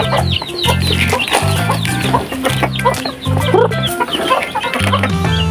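Chicks and chickens clucking and peeping busily while being fed concentrate on a farm, a dense close chorus of overlapping calls with a steady low hum beneath.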